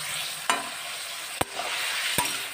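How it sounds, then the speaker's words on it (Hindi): Salt is stirred into chopped tomatoes and onion cooking in a pan. A steady sizzle runs throughout, broken by three sharp spoon knocks against the pan, with no talk. "इसको नमक को मिक्स कर देंगे टमाटर प्याज में"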